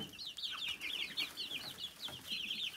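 Ameraucana chicks chirping and peeping quickly and repeatedly, faint and close, over low background noise.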